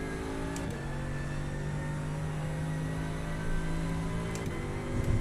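A car engine drones steadily from inside the cabin, with a constant low hum and faint shifts in pitch as it drives, and no talking.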